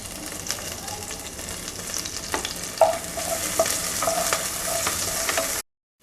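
Finely chopped garlic frying in a little butter for vegetable soup, a steady close crackle with a few sharper pops and stirring scrapes, cutting off abruptly at the end.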